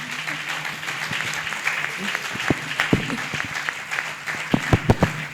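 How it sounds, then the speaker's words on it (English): Audience applause for the panelists at a nonprofit summit panel discussion on AI, a steady wash of many hands clapping with a few sharper, louder claps standing out near the end. "Shall we please clap for them?"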